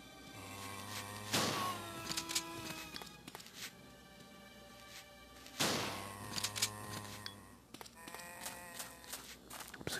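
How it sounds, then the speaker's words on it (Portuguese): Two loud, booming 12-gauge shotgun blasts in Resident Evil 2, several seconds apart, each followed by a ringing decay, over a steady low hum and faint game background tones. "dois tiros de 12"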